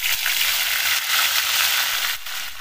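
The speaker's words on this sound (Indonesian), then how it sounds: "Terus kita goreng nih. Minyaknya udah matang." Snakehead fish frying in hot oil, a loud, close, continuous crackling sizzle with small pops throughout and no talking.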